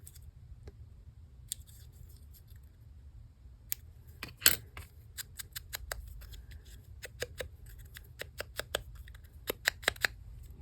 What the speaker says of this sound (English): I think I'm going to kind of snip these corners.